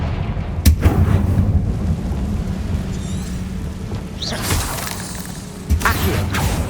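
Fiery spell blasts go off in the Hogwarts Legacy video game, with a couple of booming explosions and crackling bursts over rumbling combat noise.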